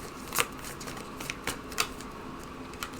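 Tarot cards being handled and drawn, with a few soft, papery shuffles and snaps spaced out over a quiet background.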